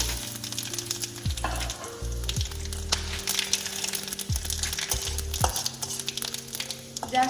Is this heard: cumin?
yes